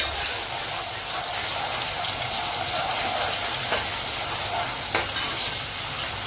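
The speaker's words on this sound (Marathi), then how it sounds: "हे बघा कांदा शिजतोय." Onion, chilli and garlic fry in a pan for an Agri-style misal curry, giving a steady, close sizzle with a couple of sharp clinks of stirring and no talk.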